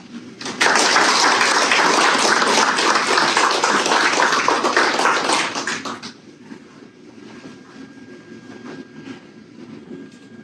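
A large audience breaks into loud, sustained applause welcoming candidate Park Su-yong at a political campaign event, filling the hall for about five seconds before fading into quieter room noise.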